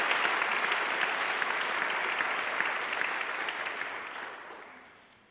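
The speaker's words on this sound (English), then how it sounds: "Let's get another round of applause for our other two speakers this morning." A morning conference audience applauds steadily, with dense clapping that holds level and then fades out toward the end.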